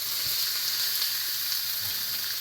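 Thick pork chops sizzle in a hot frying pan with a steady, bright crackling hiss, close and continuous, and faint occasional low knocks from the pan.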